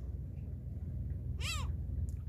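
A seagull gives a single sharp, arching call up close on a seaside island during sea fishing, with steady low wind and water noise underneath.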